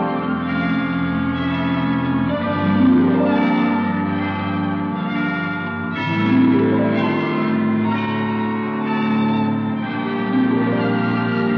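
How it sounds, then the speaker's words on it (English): Hospital chimes ring out five o'clock in deep, resonant bell tones, several slow strikes each swelling and decaying into a sustained harmonic hum, loud and alone without voices. "I didn't know the hospital had chimes."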